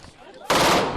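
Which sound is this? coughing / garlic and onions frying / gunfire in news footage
gunfire in news footage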